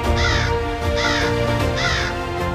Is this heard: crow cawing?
yes